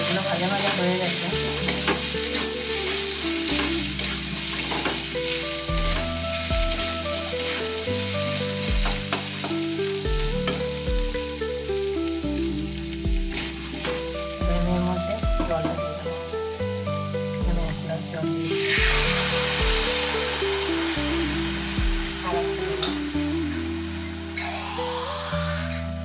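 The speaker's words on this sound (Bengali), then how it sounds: "আমার আলুগুলো ভাজা ভাজা হয়ে গেছে।" Potatoes sizzle and hiss in a pan as they fry and are stirred for Bengali aloo posto with poppy seeds. The frying is steady and close throughout, over a constant tonal background.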